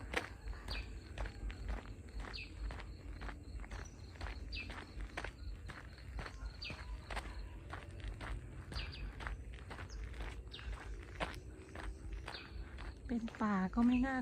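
Steady footsteps crunch along a path toward the back of a garden in a rural Thai orchard, close and evenly paced throughout, with a faint bird chirping near the end and no talking.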